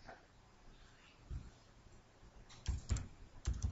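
A computer keyboard is tapped at the end of a programming demonstration, with a few soft clicks followed by a cluster of louder key presses near the end, close and fairly quiet.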